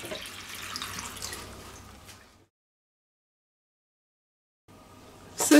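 Two litres of water pour into a pot of fresh mint for syrup, a steady splashing stream that stops abruptly, followed by silence and then a short resumption with a louder clatter at the close.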